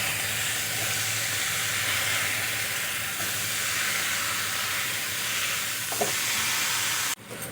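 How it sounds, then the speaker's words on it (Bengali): Fried raw plantain and potato pieces tip into hot oil-rich masala for a rohu fish curry, giving a steady, even sizzle throughout with a brief clatter near the end. "এখন আমি ভেজে রাখা কাঁচা কলা আর আলুগুলো দিয়ে দেব।"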